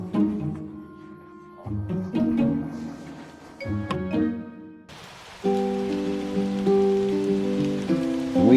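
Rain falls in Quang Ngai, Vietnam. A steady hiss of drops on surfaces fills the second half and is mixed with sustained musical tones throughout.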